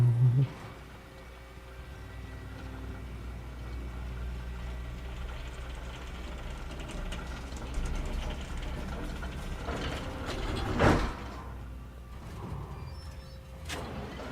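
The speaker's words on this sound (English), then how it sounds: "Cable car." A cable car in the Alan Wake video game rides along its line with a steady low mechanical hum and drone. A brief louder clank rises near the end, and there is no speech.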